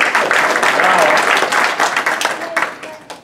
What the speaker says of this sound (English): Big applause to all of you